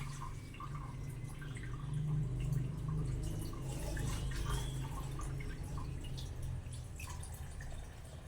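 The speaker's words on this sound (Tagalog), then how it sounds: "Hugasan natin yung bigas. Bigas siya kasi hindi pa naluto." Uncooked rice being washed under running water in a home kitchen, a steady trickle and splash with scattered drips, close and moderately loud throughout, with no voices.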